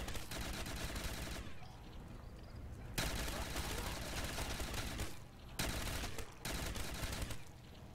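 Sustained automatic gunfire from MW3 Remastered custom zombies, loud and dense, broken by short pauses of reloading or lulls around two and five seconds, with faint game sounds underneath.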